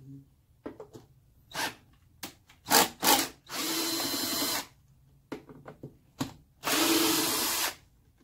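A cordless power drill backs screws out of a Squier Sidekick electric guitar in two sustained whirring bursts, each lasting over a second, with short clicks and handling taps of the workbench between them, close up and without talk.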